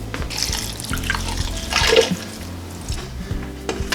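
Water pours steadily into a pot at close range, a continuous splashing rush that swells briefly near the middle before settling.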